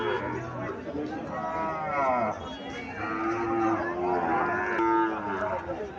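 A Friesian bull calf moos repeatedly in long drawn calls at a Comilla cattle market, with people talking in the background throughout.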